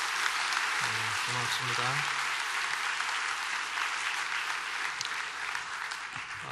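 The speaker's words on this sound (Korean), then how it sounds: "다시 한번 박수 크게 해주시기 바랍니다" Church congregation applauding a children's choir, a broad roomful of clapping with a brief voice of thanks near the start, continuing steadily before easing off.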